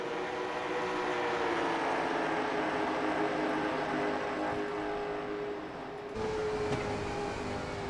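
Late model race cars at Richmond Raceway, a steady loud roar of engines running together on the paved oval, sustained throughout with a brief dip near the end before the drone resumes.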